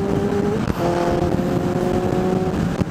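Suzuki 650 Bandit motorcycle engine running steadily nearby, a sustained tonal hum with a brief blip partway through and a sharp click near the end.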